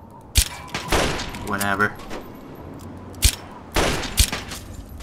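Gunfire in the video game Fallout 3, several sharp loud shots scattered across a few seconds, with a short rattling burst among them, while a person speaks over the game.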